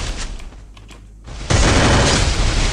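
Gunfire from a headshot in the mobile battle royale game Garena Free Fire, a loud sudden burst that jumps in after a quieter stretch and keeps a dense, sustained roar to the end.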